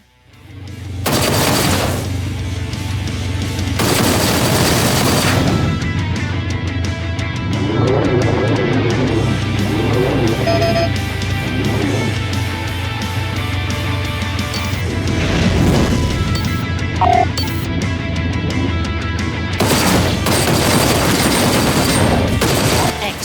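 Space combat gunfire in the video game Rebel Galaxy Outlaw, loud bursts of weapon fire and blasts repeating over a steady droning ship hum, with no talking.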